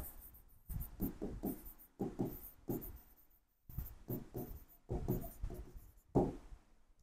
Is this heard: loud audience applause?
no